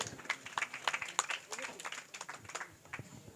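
A church congregation at a Christmas gathering applauding, a brief burst of scattered clapping at moderate distance that fades out over a few seconds, with voices talking underneath.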